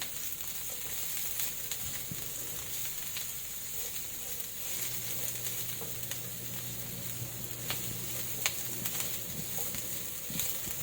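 Onions and garlic sauté together in a pan as a soft, even sizzle with occasional light stirring clicks, close by and without talk.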